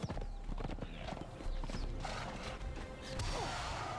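Horse in the game Conan Exiles, hooves clip-clopping steadily with creaking tack and a short whinny, close and fairly quiet.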